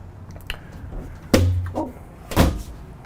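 A walk-through door on a 2020 Logan Coach Select 814 four-horse living-quarters trailer bangs shut in two loud, close thuds about a second apart, with faint handling noise before them.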